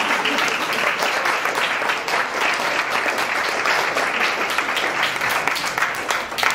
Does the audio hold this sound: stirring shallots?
no